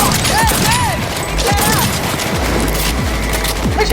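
Rapid bursts of gunfire from the Cyberpunk 2077 video game crackle in a dense firefight, with shots layered over steady loud battle noise and game effects, sustained across the whole stretch.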